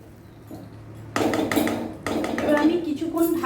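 Semolina upma is stirred and mixed in a pot over a low gas flame, with scraping and clattering of utensil against metal in close, continuous bursts and a steady background hum.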